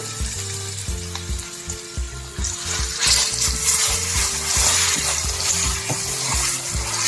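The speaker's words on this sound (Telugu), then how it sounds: "ఇప్పుడు ఈ వెలగపట్టు గుజ్జు అంతా ఇందులో వేసేద్దాం" Wood apple pulp goes into hot oil in a pan, making a loud, close sizzle that swells and stays strong, with rhythmic stirring knocks underneath.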